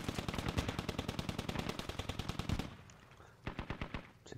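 Automatic weapons fire in a military video game match: a long, rapid, evenly spaced burst for about two and a half seconds, a short lull, then another quick burst, loud and dry.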